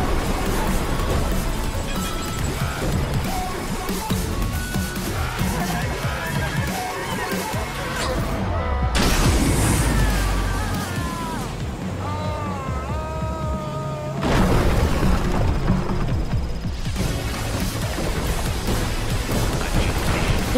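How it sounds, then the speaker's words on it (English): Explosions and a collapsing building in the video game Screamride, a dense, continuous rumbling crash with repeated blasts and debris, broken by a short quieter gap before another burst of destruction, with a synthetic announcer voice over it. "Contiguous explosions."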